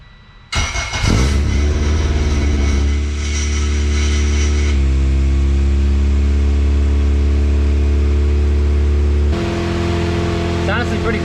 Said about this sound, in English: I'm going to give this thing a fire, see if it starts up